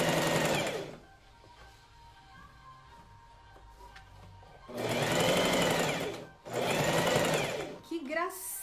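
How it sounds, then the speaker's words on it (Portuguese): A sewing machine stitches a blouse hem at close range in rapid, buzzing bursts. It runs briefly at the start, pauses while a voice talks, then runs in two longer stretches with a short gap between. "vou passando uma costurinha aqui nesse revelzinho"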